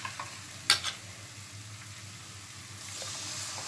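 Masala fries in a pan for pakora kadhi, a soft steady sizzle with one sharp spoon clank against the pan early on, then a quiet continuous hiss.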